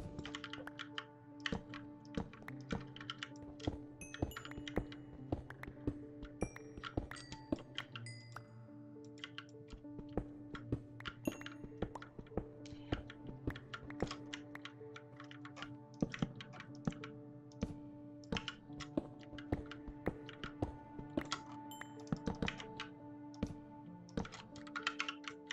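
Fast, steady clicking on a computer keyboard continues throughout, close and fairly quiet, with no talking.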